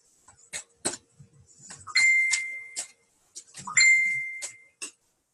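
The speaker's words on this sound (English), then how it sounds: "That's my phone, so basically that's Wordsworth giving me a new word." A phone gives two bright ringing notification chimes from a word app, each a clear sustained ding, spaced about two seconds apart among soft clicks and handling noise indoors.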